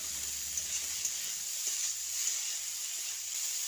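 Food fries in a pan just after sugar is stirred in, giving a steady, bright sizzle close up with faint stirring noises and no talking.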